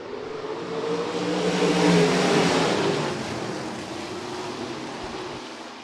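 A pack of 305 sprint cars roars past on the dirt oval at Rapid Speedway, a loud engine wash swelling to a peak and then easing into a sustained, broad drone.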